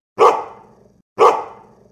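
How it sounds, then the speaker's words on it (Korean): A Jindo dog barks twice, loud and close, with each sharp bark trailing off before the next comes about a second later. "평소와 완전히 다른 짖음이었습니다"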